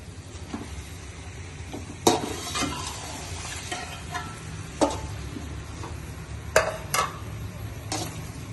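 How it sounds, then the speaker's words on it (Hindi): Frozen minced meat, a mix of coarse and fine grinds for matar qeema, hits a hot pan and sizzles steadily, with sharp stirring clacks and pan scrapes breaking through every few seconds; no voices. "अब ये हम फ्रीज किया हुआ कीमा इसमें डाल देते हैं।"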